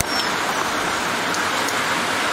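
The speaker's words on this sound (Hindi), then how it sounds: "यहाँ इतनी भयंकर बारिश हो रही है" Heavy rain pours down, a constant broadband hiss with no breaks, fairly loud and close, and no voices over it.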